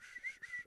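A person whistles with a breathy, airy tone instead of pursed lips, a short wavering two-part whistle with audible breath and no speech.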